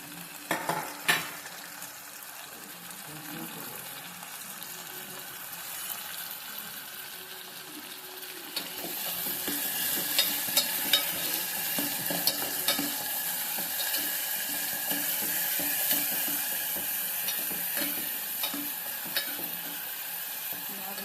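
Tomatoes go into a pan of onions for mutton curry and sizzle softly while being stirred, with scattered spoon scrapes and clinks against the pot. The frying grows brighter and steadier partway through.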